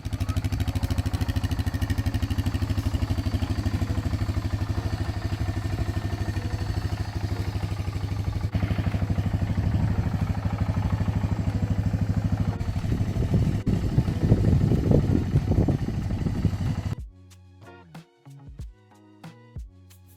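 A Honda 300 Fourtrax 4x4 ATV with its stock exhaust drones steadily at close range, the engine note rising and roughening in a few revs before it cuts off abruptly near the end.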